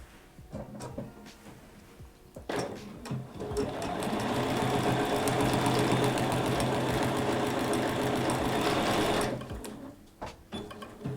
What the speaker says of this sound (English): And now I'll come back here and back stitch.